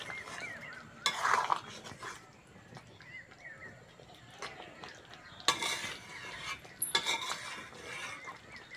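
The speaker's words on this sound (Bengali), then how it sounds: "হালকা নেড়ে চেড়ে নিয়েছি বন্ধুরা" Mint chicken curry with potatoes and garam masala being stirred in a pan: soft, intermittent scraping and clinking spoon strokes with a few louder bursts over a faint sizzle, fairly close.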